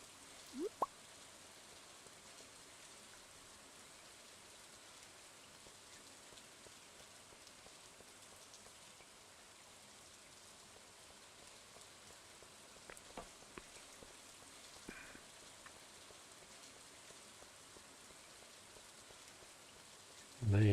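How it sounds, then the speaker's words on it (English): Soft, steady rain falls in the farming video game Stardew Valley, a faint even hiss with occasional light drips and plops, heard alone at low volume. "Nice and rainy."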